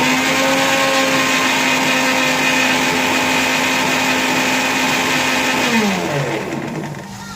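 A kitchen mixer grinder grinding spices for a methi vegetable dish, a loud steady high-pitched whirring motor that runs continuously and then winds down near the end.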